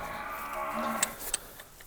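A buffalo brought for sale at a Rasulpur livestock market lows with a drawn-out, moderately loud call over steady background murmur, a few faint clicks near the end.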